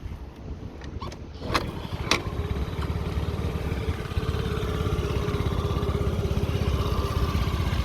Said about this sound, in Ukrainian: Перевіримо, як заводиться з підстартера.